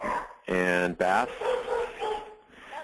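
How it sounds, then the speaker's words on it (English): A dog barks twice in quick succession with whiny, yelping tones, fairly clear over a phone-line background, followed by people talking. "And you can hear my dog in the background barking."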